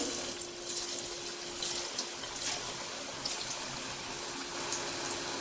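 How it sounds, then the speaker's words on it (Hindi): Cabbage vada frying in hot oil over a low flame gives a steady, dense bubbling hiss, close and even throughout with no talk. "अब हम गैस को लो फ्लेम पे रख देंगे और हम इसमें डालेंगे ये जो हमने वड़ा तैयार किया हुआ है, इसे डाल देंगे।"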